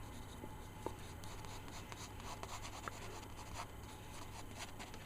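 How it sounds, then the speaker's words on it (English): A pencil sketching loosely on paper, faint close scratchy strokes coming in short irregular bursts over a quiet steady hum. "So we can start to sketch them loosely in there."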